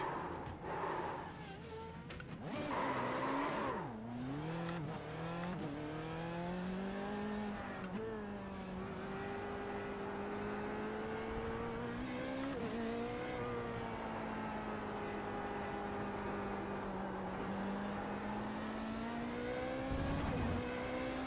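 A powerful formula race car in the iRacing simulator drives a lap, its engine revving up and down through gear shifts in a steady loud whine, heard alone.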